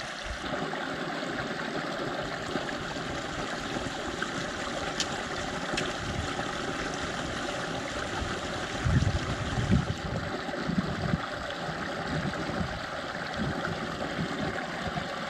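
A stream flows through the Kevo canyon, a constant close rushing babble with occasional splashes and sloshes nearer the middle, with no voices.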